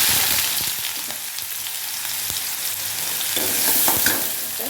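Sliced onions frying in hot oil with spluttered mustard seeds, a loud continuous close sizzle with scattered crackles and light stirring taps throughout.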